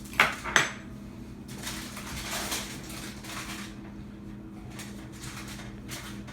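A fork pricks a keto pizza crust on a pan, with two sharp metallic taps at the start and then a run of softer scraping and tapping strokes, close by.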